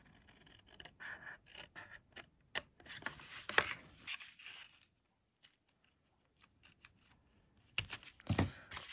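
Scissors cut paper card for a pop-up card, producing a few quiet, close, crisp snips separated by silent pauses.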